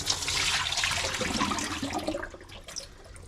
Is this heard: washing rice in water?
yes